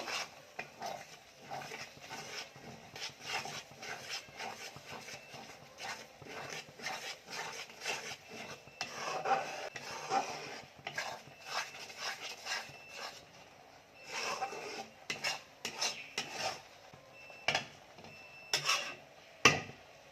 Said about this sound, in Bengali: কাজু বাদামের কাঁচা গন্ধটা চলে যাওয়ার জন্য এটাকেও বেশ কিছুক্ষণ একটু নাড়াচাড়া করে নেব